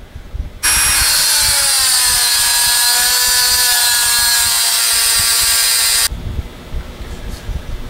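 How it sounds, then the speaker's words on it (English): A Dremel rotary tool's cutting wheel grinds through the steel outer race of a bearing, a loud sustained high-pitched whine with shifting tones that starts abruptly, holds steady for about five seconds, then cuts off, leaving quiet room noise. "We're going to use the Dremel wheel to cut along that line."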